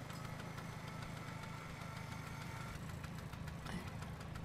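A zip line motor runs in Ark: Survival Evolved Aberration, with a steady mechanical engine hum and vibration that holds constant throughout, fairly faint, with no talk.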